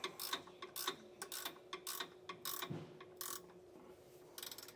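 A ratchet clicks in quick bursts while tightening a bolt on a SumoSprings helper spring mount, close and fairly quiet, with a rapid rhythmic clatter that pauses between strokes.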